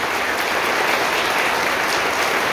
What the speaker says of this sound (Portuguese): dê uma salva de palmas para ela bem forte